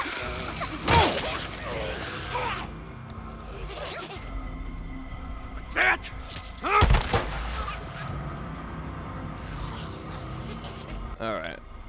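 Sporadic gunshots from the Days Gone video game, a few sharp loud cracks spaced apart over a steady game-sound background, with someone talking at times.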